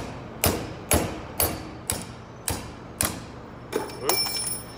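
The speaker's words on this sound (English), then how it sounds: "Let's see if we can grab the pin, not yet, keep pounding" A hammer pounds a pin out, landing seven or eight sharp, evenly spaced metallic blows, loud and close, the last few followed by a brief ringing clatter as the pin gives way.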